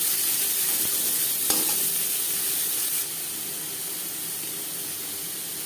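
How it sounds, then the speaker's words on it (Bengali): Nutmeg and whole spices fry with onions in a pan, giving a steady, close hiss of sizzling oil that holds throughout, with a faint clink near the middle and a slight drop in level toward the end. "আর রয়েছে জায়ফল মশলা একটু ভেজে নেওয়ার পর পেঁয়াজের সাথে মিক্স করে দিলাম"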